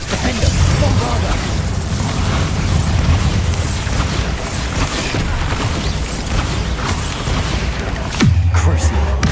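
A Bombarda explosion spell goes off in Hogwarts Legacy amid heavy, continuous rumbling combat noise, ending in a sharp loud blast with a deep boom near the close.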